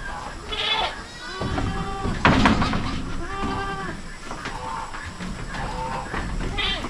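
Goats on a farm bleat repeatedly over a constant outdoor background hiss, the wavering calls overlapping at moderate volume.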